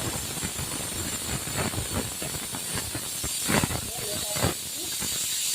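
Curry leaves sizzle in hot tempering oil with dal for tamarind rice, giving a steady crackling hiss with sharper pops and spits throughout, close and moderately loud.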